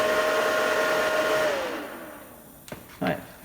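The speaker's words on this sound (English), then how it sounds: "if I warm that up with a heat gun" A heat gun blows hot air with a steady, close whoosh that winds down and fades. A couple of short clicks or knocks follow near the end.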